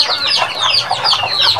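Chickens on a farm cluck and chatter in a close, steady stream of overlapping calls with no pause.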